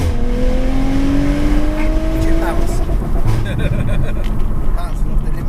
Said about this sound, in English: Bouncing off the limiter.